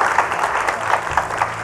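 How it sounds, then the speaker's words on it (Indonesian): Studio audience on an Indonesian television program clapping, a brief, even burst of applause at steady loudness with no voices over it. "Ya udah tepuk tangan buat dinar dulu."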